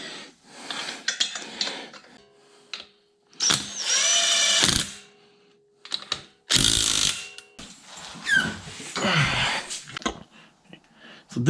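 Ratchet wrench tightening a wheel onto a 50th Anniversary Camaro SS, several close bursts of rapid clicking separated by short pauses, some long and some brief.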